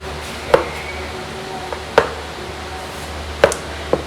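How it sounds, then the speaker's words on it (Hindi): A knife cutting peeled carrots on a board, four crisp separate chops spaced out over a quiet background hum. "कैरेट को हमने पहले तो पील किया है और पील करने के बाद हम इसकी अब कटिंग कर लेंगे"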